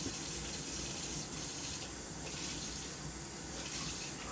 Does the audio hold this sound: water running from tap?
yes